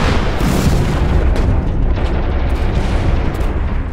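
German artillery batteries fire and shells burst on beaches during a WWII landing near Antwerp, a dense, loud rumble of booms and blasts rolling continuously.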